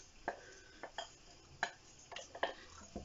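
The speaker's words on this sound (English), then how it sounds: "And then you're going to give it a mix around." Crushed biscuits and melted chocolate stirred in a bowl, with soft scraping and a few sharp clinks of the utensil against the bowl, faint and close.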